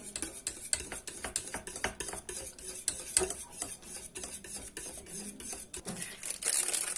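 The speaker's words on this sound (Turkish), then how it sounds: "Bir yemek kaşığı tereyağı ekledim. Ve de yine karıştıralım." A spoon stirs kadayıf dessert in a pot with butter just added, a steady stream of rapid scraping and clinking against the pot, close and continuous.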